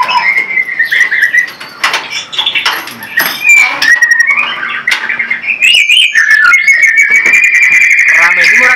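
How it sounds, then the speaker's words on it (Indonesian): Oriental magpie-robins (murai) at a bird-keeping place in Boyolali sing close by, pouring out loud, varied whistled phrases and chirps that overlap continuously, with a brief flutter of wings. "Sini murai kabeh."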